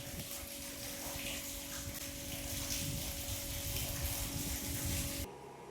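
Water from a motor pump rushes steadily along an irrigation channel in a chickpea field, a constant close gushing with a faint mechanical hum beneath, dropping away abruptly at the end.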